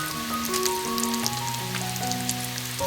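Ginger-garlic-coriander paste with turmeric frying in hot oil for a Chivni fish curry gives a steady crackling sizzle, with sustained musical tones playing underneath.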